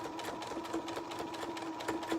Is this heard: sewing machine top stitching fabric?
yes